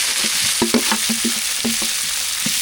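Steady loud sizzling of curry leaves, green chilli and mustard seeds frying in hot oil, with small pops and stirring clatter throughout.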